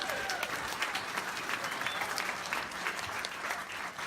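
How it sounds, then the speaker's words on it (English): An audience at a winter music gig applauds the bar staff, steady dense clapping heard from a moderate distance and fairly soft, continuous throughout. "So please give them a round of applause."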